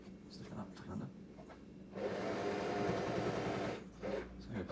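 A sewing machine stitches a fabric cushion cover, its motor whirring in a steady continuous buzz for about two seconds between quieter stretches of fabric handling and soft, low talking.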